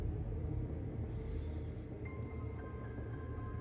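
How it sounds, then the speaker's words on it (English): Low, steady thunder rumbling through a storm in the horror game AFFECTED: The Manor, a continuous distant roll with no break, heard alone with no talk. "didn't you hear the thunder? There's a storm coming."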